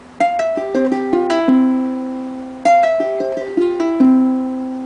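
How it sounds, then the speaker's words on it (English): Guitar notes in campanella style, each plucked tone ringing on and overlapping the next, two descending arpeggio phrases played close and clear with no voice. "I guess you could call it this like campanella style kind of thing, where just all the notes ring into each other."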